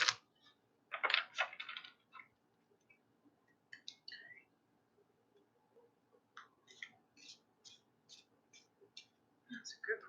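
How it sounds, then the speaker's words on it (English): Cards from an Elemental oracle deck being shuffled by hand: a few close, papery riffling bursts with soft clicks and pauses between them, otherwise quiet. "Just one more shuffle."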